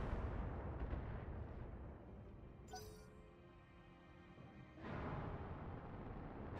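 Volley of SRM-6 short-range missiles fired by a mech at an enemy in the BattleTech video game: dense rumbling bursts and booms, a sharp launch crackle, a quieter lull, then another loud rolling salvo.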